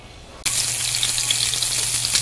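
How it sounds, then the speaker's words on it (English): A sudden loud sizzle as onion hits hot oil in a frying pan, then steady crackling frying that continues without a break. "I'm going to toss it in a frying pan with a little bit of oil"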